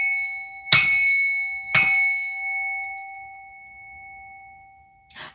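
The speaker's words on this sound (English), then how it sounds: "I'm going to ring this bell" A hand bell is struck twice in quick succession, and each ring is a bright, loud metallic clang that leaves a long clear tone hanging in the air. A third softer knock comes near the end as the ringing fades.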